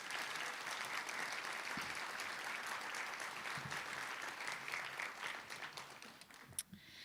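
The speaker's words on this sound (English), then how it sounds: "Let's give them all a round of applause" Audience applause at a chamber of commerce community outlook breakfast, a steady dense wash of many hands clapping throughout, tapering slightly near the end.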